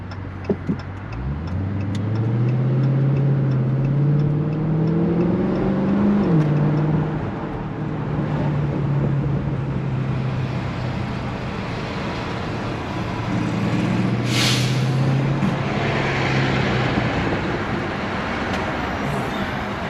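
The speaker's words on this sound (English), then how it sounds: "It's busy out here. There's a lot of traffic." Busy road traffic heard from inside a moving car on bumpy roads, a steady loud engine and road rumble throughout with tonal engine drone rising and falling, and a brief passing-vehicle swoosh near the end.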